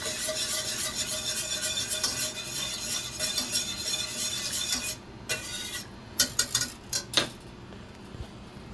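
Pasta stirred with a raw egg yolk in a pan, with spoon or utensil scraping and clinking against the metal, a steady busy clatter that thins out midway into a few sharper separate knocks.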